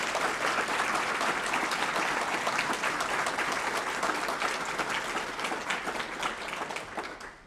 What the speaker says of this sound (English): would you please give them a round of applause for doing such a great job?